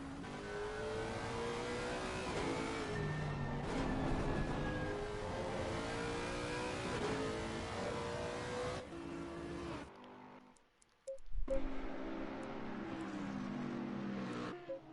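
Several GT3 race car engines roar and rev through a Nürburgring sim race in a video game, a loud continuous drone of shifting pitches, briefly cutting out near the end before resuming.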